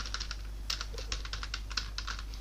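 Rapid typing on a computer keyboard while working in an Excel spreadsheet, a steady run of close, crisp key clicks with short pauses and a low electrical hum underneath.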